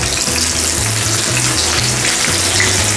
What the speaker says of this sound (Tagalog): Fry lang po natin siya ng mga 3 minutes.